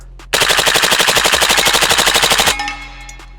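AR-style carbine with a forced reset trigger and standard carbine buffer fires one long, rapid burst of about two seconds, loud and close, each shot distinct at a steady cyclic rate, followed by a brief ringing tail.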